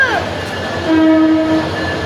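A passenger train pulls into a Bangladeshi railway station, its horn sounding in clear sustained tones over a low rumble of the approaching cars.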